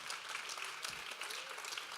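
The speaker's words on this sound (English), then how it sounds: "do give them a round of applause" An audience at a talk on artificial intelligence and sustainability claps in sustained applause, fairly distant and soft, with a steady patter of many hands throughout.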